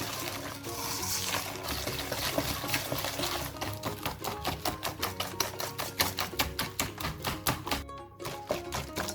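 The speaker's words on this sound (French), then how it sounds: "On va mélanger bien comme il faut." Chocolate cake batter with sugar added being mixed in a bowl, giving rapid, regular tapping and clicking strokes that speed up and grow rhythmic toward the end, close by.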